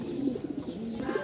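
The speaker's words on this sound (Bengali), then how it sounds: "আজকে আমাদের হিউজ পরিমাণ কবুতর আছে, 250 পিচ" Pigeons in cages at a Mirpur-1 market cooing softly, several low rounded coos in quick succession, fairly faint and close, with no talk.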